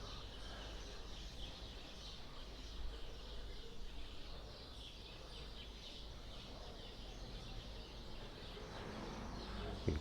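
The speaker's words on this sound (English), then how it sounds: "You can probably hear the birds singing in amongst all these trees." Birds chirp faintly among the trees of a village plaza in Haria, light scattered calls over a soft, steady outdoor hush.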